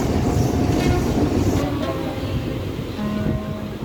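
A Mumbai local train passes close by with a loud, steady rumble of rolling cars and faint wheel clatter. A short horn-like tone rises near the end.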